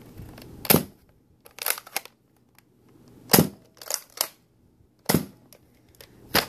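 A Nerf Strong Arm blaster fires suction darts in a quiet room, three bursts of sharp plastic snaps and clacks spaced a few seconds apart, each a loud click followed by quicker priming rattles, close and with no talk.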